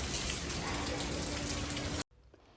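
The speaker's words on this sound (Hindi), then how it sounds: "बहुत तेज़ बारिश है" Heavy rain pours down in a loud, dense, steady hiss of drops on surfaces for about two seconds, then cuts off abruptly to a much quieter background.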